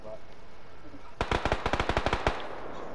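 Gunfire in the battle royale shooter PUBG: a sharp burst of about a dozen rapid, evenly spaced shots from automatic fire, fairly close, following a quieter stretch of background game ambience.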